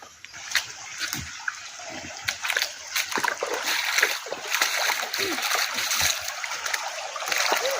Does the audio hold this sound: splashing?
yes